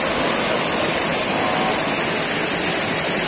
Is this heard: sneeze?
no